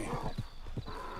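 Hooves clip-clop in a quick, close rhythm on the ground while a horse gives a short whinny in Red Dead Redemption 2, with game ambience beneath.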